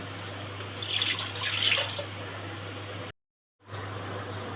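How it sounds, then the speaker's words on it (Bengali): A cup of water poured into a pan for a Chittagong-style tomato pickle (3 kg of tomatoes) splashes and trickles for about three seconds over a low steady hum, then cuts to brief silence before the room noise returns. "এবার প্যানে আমি 3 কেজি টমেটোর জন্য 1 কাপ পানি ঢেলে দিচ্ছি।"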